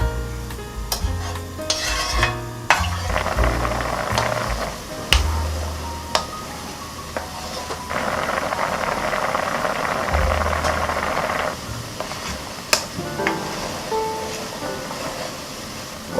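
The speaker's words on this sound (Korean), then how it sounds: "이렇게 해서 센 불로 한 5분 정도 끓일게요." Quail eggs simmer over high heat in a soy-style braising sauce, a continuous close bubbling and sizzle broken by clinks and scrapes of a utensil against the pot, with no voices.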